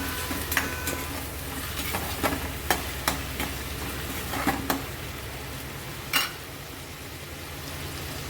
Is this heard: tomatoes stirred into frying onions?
yes